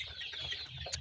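Chickens eating grain and wheat-bran feed give soft, close clucks over a brief moment, low in level with no voices.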